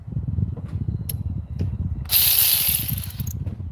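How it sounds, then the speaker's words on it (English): A 14 mm ratchet wrench clicks in quick repeated strokes while tightening the power steering belt on a 2004 Toyota Tacoma, close and crisp, followed by a brief harsher metallic rasp. "right here we got 14 millimeter for our ratchet wrench, automatic"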